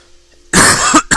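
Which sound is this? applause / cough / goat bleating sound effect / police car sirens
cough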